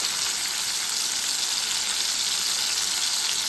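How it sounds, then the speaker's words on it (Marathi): Onions sautéing in a pan for sambar give a steady, loud broadband sizzle and crackle throughout, close and continuous with no talk. "आपल्याला कांदा परतून घ्यायचा आहे"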